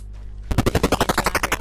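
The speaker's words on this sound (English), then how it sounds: "I hear gunshots." A rapid burst of automatic video game gunfire, loud and close, rattling off in an even rhythm after a moment of quiet.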